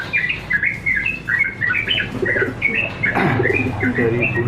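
Feral domestic pigeons coo in low, throaty murmurs while higher chirps and tweets flutter above, a busy close-up mix of bird calls that thickens toward the end.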